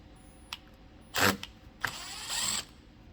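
A ratchet works loose T20 Torx bolts holding the third brake light on a 2020 Jeep Gladiator, giving short bursts of quick clicking with small metallic taps between them, close and fairly quiet, with no voices.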